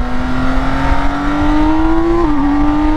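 A 2022 BMW K1600 motorcycle engine with an ECU flash tune pulls hard under acceleration, its loud steady drone rising in pitch, dipping briefly at a gear change, then climbing again.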